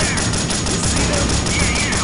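Sustained rapid gunfire from the video game Delta Force Black Hawk Down, loud and close, a dense, unbroken automatic clatter filling the whole stretch with no pauses.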